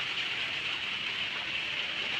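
Rain falls as a steady, even hiss of moderate loudness with no breaks and no voices, a continuous wash of drops.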